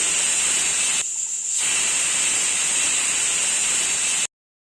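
A pressure cooker loudly hisses out steam after cooking peas pulao, a continuous high rushing release with a brief dip partway through before it cuts off abruptly, no talk.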